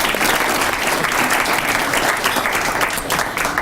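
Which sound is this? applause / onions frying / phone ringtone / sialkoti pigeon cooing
applause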